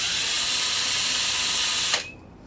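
A high-speed power drill bores a pilot hole with a Bosch bit during rear suspension work on a Bel Air, a loud steady whine that runs continuously, then cuts off abruptly near the end.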